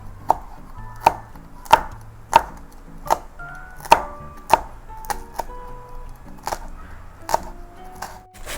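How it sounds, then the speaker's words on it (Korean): A knife slices through a small chili pepper on a cutting board, producing about a dozen crisp, close chopping thuds in a loose, uneven rhythm over a quiet background. "다시 한번 이렇게 갈라서 이렇게 갈라서 이렇게 해서 썰어 줄게요."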